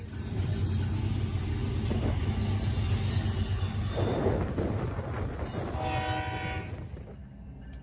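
CSX freight train 25A running to Cincinnati, Ohio, a loud continuous rumble of wheels and cars passing close by, with horn tones and wheel squeal rising toward the end.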